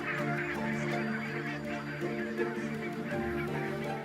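A large flock of barnacle geese honks continuously as the birds set off, many overlapping calls forming a dense, steady clamor.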